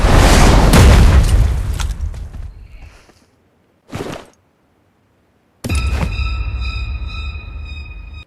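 A grenade blast in the PUBG Mobile video game: a loud booming explosion that fades over a few seconds, followed by a short thump and then another loud burst with ringing tones.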